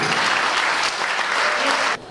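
Wedding guests at a Hungarian wedding reception applaud in a loud, dense round of clapping that carries steadily and then cuts off abruptly near the end.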